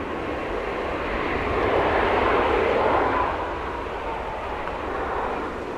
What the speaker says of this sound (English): Ryanair also taxiing out here as well